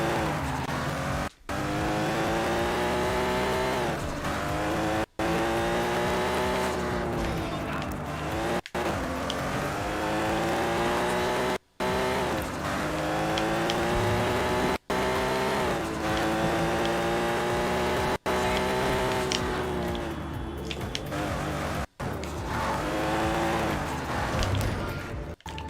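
A car is driven hard in the video game Sleeping Dogs, its loud engine revving up and down through repeated gear shifts, broken by several brief sharp cuts, with occasional tire noise.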